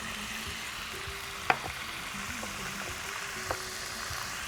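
Mustard seeds crackle and sizzle in hot oil as a Tamil tempering begins, a steady low frying hiss broken by a couple of sharp pops near the start and middle.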